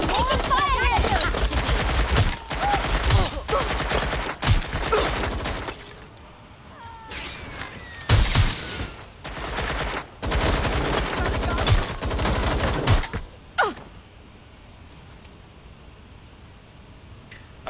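Video game gunfire in Watch Dogs: Legion comes in dense, rapid bursts of close, loud shots broken by short quieter gaps, with a few isolated single cracks and a voice talking in the background.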